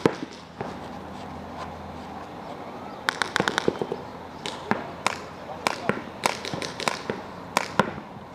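Paintball markers fire during a paintball game, a mix of single pops and short bursts of sharp cracks from nearby and farther off, with shouting voices heard between the shots.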